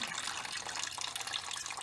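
Oil and water dribbling steadily out of the drained crankcase of a 1946 John Deere B into a pan, a continuous close trickling and splashing with no talk.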